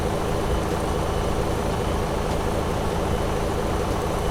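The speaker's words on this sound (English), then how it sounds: "I did see the fuel truck go through the thing" Fuel truck in the X-Plane 11 flight simulator, a loud, steady, low engine rumble that holds constant throughout with no talk.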